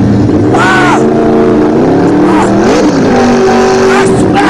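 A car engine revs loudly and close, its pitch swooping up and down in several surges across a few seconds, with a voice briefly shouting over it.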